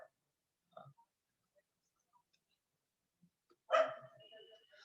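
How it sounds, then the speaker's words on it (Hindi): A dog barks once in the evening, a lone moderately distant bark breaking an otherwise quiet stretch, with a few faint scattered noises before it. "कुत्ता बहुत भौंकता है"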